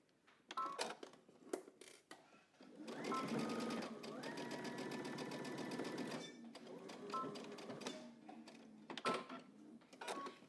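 A domestic sewing machine stitches a vest in short bursts, with one longer run in the middle, and someone talks quietly between and over the stitching.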